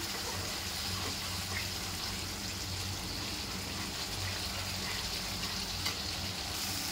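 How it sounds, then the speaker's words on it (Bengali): Spice masala sautéed with yogurt for doi katla, a quiet, even hiss of frying with faint stirring, steady throughout. "দইটা দিয়ে একটু কষাতে হবে।"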